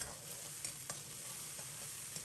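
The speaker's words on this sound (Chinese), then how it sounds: "随后倒入调好的碗汁，在锅中炝出香味" Sauce poured into a hot wok over minced pork, ginger, garlic and chili hisses and sizzles steadily, with a few soft stirring scrapes, close up and fairly quiet, no voices.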